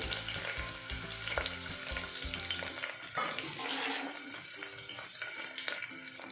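Garlic, onion, curry leaves and green chilies fry in hot oil in a pan for horse gram sambar, a steady close sizzle with stirring and some watery hiss, no voices.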